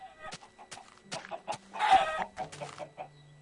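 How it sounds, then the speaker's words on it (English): Chicken clucking in Minecraft Xbox 360 Edition, several short in-game clucks and squawks in a quick irregular run, clear and close with a burst of louder noise midway. "Now it spawns a chicken."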